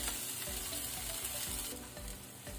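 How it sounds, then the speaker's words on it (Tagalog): Onions sautéing in a pan as they are stirred, a steady close sizzle with rhythmic scraping strokes over a low humming background, no voices. "Tapos, ilagay natin ang sibuyas. Ayan, haluin natin konti."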